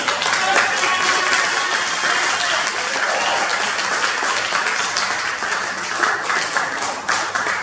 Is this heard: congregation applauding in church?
yes